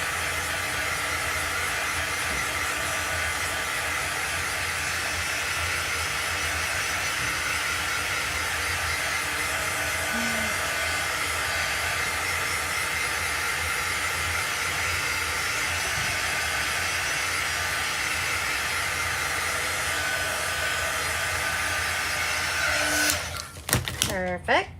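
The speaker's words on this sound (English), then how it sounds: "And then I'm gonna get my little dry tool." A small handheld heat drying tool blows hot air steadily at close range, a continuous broadband whoosh that holds for over twenty seconds before clicking off near the end, craft work on a chalk-painted Valentine's door hanger.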